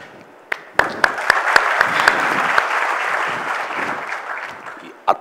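An audience applauds at a company quality-theme event, with several sharp, separate claps at the start that quickly build into steady, dense clapping lasting a few seconds.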